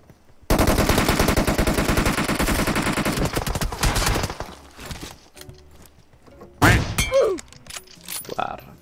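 Rapid automatic gunfire in PUBG rattles loud and dense for about four seconds, then gives way to scattered shots and sharper effects, with a voice speaking briefly near the end.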